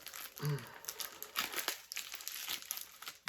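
A yellow plastic mailer bag from a lost Ukrposhta parcel crinkles and rustles close up during unboxing, in continuous bursts of dry crackling.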